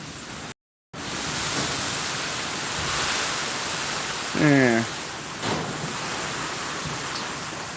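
Rain drums on a garage workshop roof as a steady, loud hiss filling the space, with a brief dropout near the start and a short spoken word partway through.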